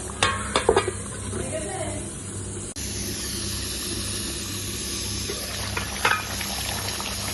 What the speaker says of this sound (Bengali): আলুগুলো দিয়ে একটু নেড়ে চেড়ে নেব